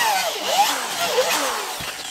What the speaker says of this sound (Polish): teraz wiertło do konfirmatów i wiercimy nasze otworki